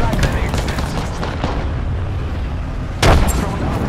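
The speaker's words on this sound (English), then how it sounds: "Frag grenade set." A frag grenade explodes in the Apex Legends battle royale game, a single loud, sudden boom near the end that follows steady in-game noise and voice chatter.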